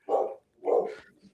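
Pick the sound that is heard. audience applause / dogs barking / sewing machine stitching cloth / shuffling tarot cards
dogs barking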